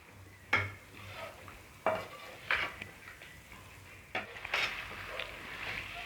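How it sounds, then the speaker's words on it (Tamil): A spoon stirs potato masala with green peas in a pan, making a few distinct scraping strokes against the metal over a soft, continuous sizzle, with no talk. "உருளைக்கிழங்கு ஃபுல்லாக மசாலா படுற மாதிரி கிளறி விட்டுப்போம்."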